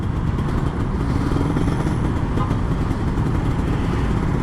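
An old Kawasaki Ninja RR 150 two-stroke motorcycle runs on the way home from the office, giving a loud, continuous, raspy engine drone with steady rumble throughout and some faint traffic noise behind it.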